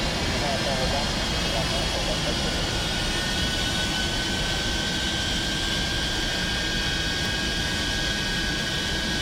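Avro Vulcan XL426 jet engines howling during a high-speed taxi run, a loud, steady roaring whine with a sustained high tone that continues without pause for the whole stretch.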